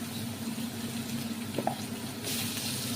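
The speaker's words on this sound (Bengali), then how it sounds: "এই তেলের মধ্যে আলুগুলো ভেজে নেব" About 300 g of potatoes fry in oil in a pan for a Bengali potato and pointed gourd curry, giving a steady, fairly quiet sizzle that grows brighter and louder for the final stretch.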